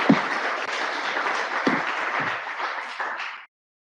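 Conference audience applause after a keynote in a large hall, dense steady clapping lasting about three seconds before stopping abruptly, with no talking.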